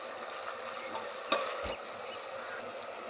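Chopped onions fry in hot oil for a chicken biryani, giving a soft, steady sizzle with one brief louder clatter of stirring partway through.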